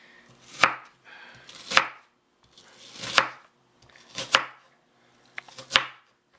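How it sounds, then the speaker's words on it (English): A knife chops an onion into small pieces on a cutting board, five sharp, close knocks spaced about a second apart with light scraping between them. "we're going to start chopping it into smaller pieces"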